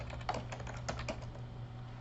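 Keys clacking on a computer keyboard at a steady, moderate pace, close and fairly quiet over a constant low electrical hum, with no talking.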